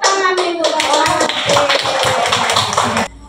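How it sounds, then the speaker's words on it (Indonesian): Applause in a school gathering of teachers, a burst of many hands clapping close by with some chatter mixed in, then stopping abruptly at the end. "Tepuk tangan Ibu."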